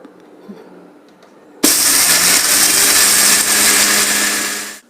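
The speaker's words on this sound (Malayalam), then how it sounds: "വറുത്ത് വെച്ചിരിക്കുന്ന ഉഴുന്നും മുളക് പൊടിയും പുളി ഇതെല്ലാം കൂടെ ചേർത്ത് നമുക്ക് മിക്സിയിലൊന്ന് അടിച്ചെടുക്കാം" After a quiet moment, a mixer grinder abruptly roars to life, grinding roasted urad dal, chili powder and tamarind with a loud, harsh whirring that holds steady for several seconds before cutting off.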